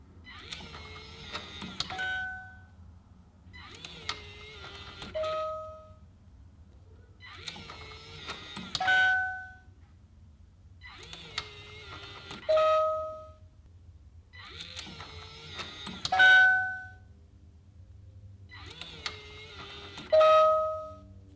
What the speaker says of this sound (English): So you can turn off the sound when it locks, or you can change the volume.